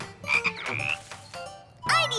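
A cartoon frog croaks loudly and close in a few bursts of warbling, rubbery croaks, with a final rising croak at the end and no talk.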